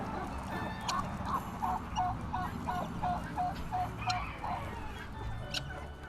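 Several chickens call in a quick run of short honking clucks, mid-distance, over a steady low outdoor rumble on a hobby farm.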